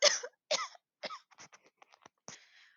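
A run of short, sharp coughs from one person, starting with two strong bursts and trailing into smaller, softer hacks and a final raspy cough, close and clear with no talk.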